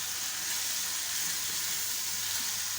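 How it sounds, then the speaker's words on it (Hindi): Minced meat with ground whole coriander and cumin roasting in a pan for a qeema karela recipe: a steady, even sizzling hiss, close and moderately quiet, with no talk. "इसको 1 से 2 मिनट तक हम ऐसे ही भून लेंगे।"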